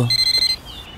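A short burst of rapid, high electronic ringing pulses, like a phone ringtone, cutting off after about half a second.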